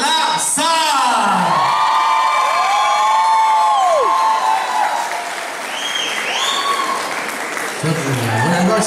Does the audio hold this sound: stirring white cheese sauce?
no